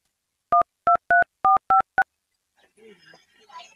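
Mobile phone number being dialed: six crisp keypad tones in quick succession, loud and close, followed by a faint murmur of voices in the background.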